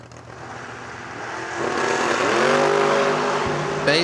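At a drag racing event, a Corvette's engine builds from a low rumble into a loud, rising wail as it launches and accelerates, with a brief drop in pitch at a shift near the end.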